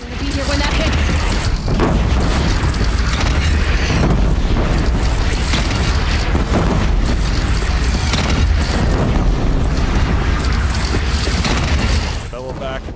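A cannon shot explodes in Horizon Zero Dawn, a loud, dense booming blast that rolls into a continuous thundering rumble of further explosions lasting many seconds before easing off at the end.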